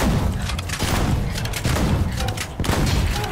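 Shotgun blasts from the Bombshell video game come in loud, booming bursts, several heavy shots in close succession over dense rumbling action noise.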